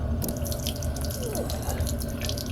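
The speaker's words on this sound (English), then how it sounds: "Unscrew both of them, let the water drip out." Water draining out of the open drain plugs under a 2012 Keystone Passport 3220 BH travel trailer's water heater, a steady close trickle and splatter with a constant broadband wash and no talk.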